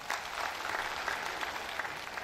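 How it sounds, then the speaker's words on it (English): An audience at a University of Ilorin inaugural lecture breaks into dense, continuous applause, many hands clapping together at full strength throughout. "Can I have some applause, please?"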